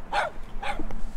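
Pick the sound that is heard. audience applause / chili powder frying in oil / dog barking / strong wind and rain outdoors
dog barking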